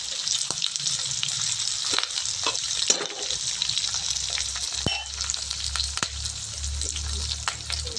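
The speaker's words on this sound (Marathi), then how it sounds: "कढीपत्ताही तेलात चांगला तळला गेला पाहिजे" Curry leaves, onion and green chili sizzle and crackle steadily in hot oil in a home kitchen pan, a continuous close frying hiss with occasional stirring clinks and scrapes, no talking.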